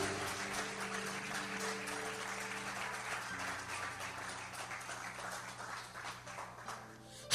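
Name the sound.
church congregation applauding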